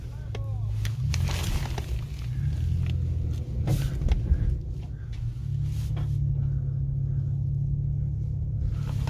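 An Infiniti M56x V8 rolls down off a tow-truck ramp, its engine giving a steady low rumble with a few clunks and thumps partway through, and people talk over it.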